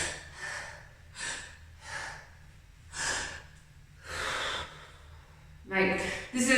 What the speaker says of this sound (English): I'm exaggerating so you can hear the breath